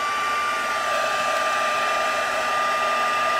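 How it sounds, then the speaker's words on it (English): A craft embossing heat gun blows hot air over black embossing powder, a steady loud whooshing hiss that runs alone and unbroken the whole time. "then you'll go through with your embossing gun"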